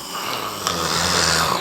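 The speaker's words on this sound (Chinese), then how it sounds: "磨牙放屁打呼噜" A sleeping man snores with one drawn-out, rumbling breath heard up close in a quiet room.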